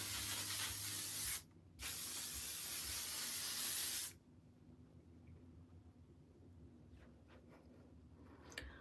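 Two close bursts of L'Oreal 3 Seconds Setting Spray, a long loud aerosol hiss broken by a short pause, then it stops abruptly and leaves a quiet room with faint small handling noises.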